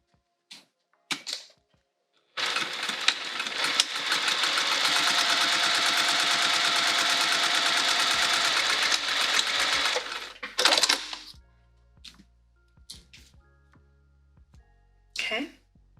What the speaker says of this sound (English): And we're gonna top stitch this folded edge.